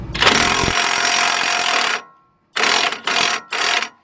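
An impact tool drives a lug nut to draw a new wheel stud into the hub of a Nissan Sentra: a long rattling burst of hammering, a pause, then three shorter bursts, loud and close.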